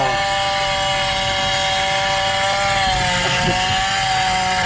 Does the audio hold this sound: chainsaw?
yes